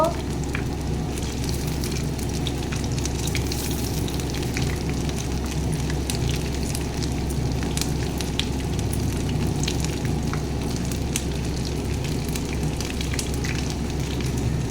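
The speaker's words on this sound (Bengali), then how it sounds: "বন্ধুরা পেঁয়াজ পাতার পকোড়ি বানাচ্ছি।" Onion leaf pakoras deep frying in oil make a continuous, even crackle and sizzle, like steady rain, holding at the same level throughout with no pauses.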